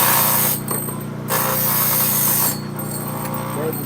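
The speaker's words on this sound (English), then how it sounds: "the grinding wheel is actually made for this blade" Grinding wheel sharpening a bandsaw blade, a steady close mechanical whir with two brief bursts of brighter, harsher grinding as the wheel engages the teeth.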